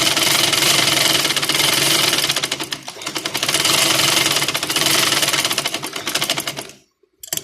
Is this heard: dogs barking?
no